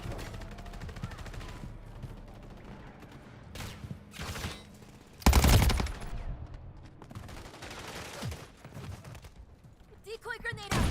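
A decoy grenade in Call of Duty MWZ mimicking gunfire, producing scattered rattling bursts of shots with one loud blast midway, under a player's occasional speech.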